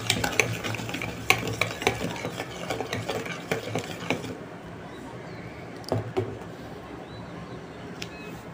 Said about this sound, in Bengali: এখন আমি ভালোভাবে ঢাকিয়ে ফেটে নিচ্ছি।